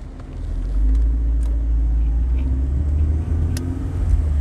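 A car driving up through the Bo-Kaap streets of Cape Town, heard from inside as a steady, loud low engine and road rumble with no talk.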